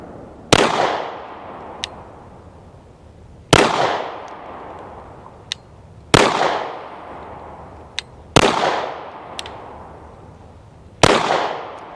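Canik TP9SF pistol firing at a shooting range: five sharp, loud gunshots spaced a few seconds apart, each with a decaying echo and small clinks of brass between them.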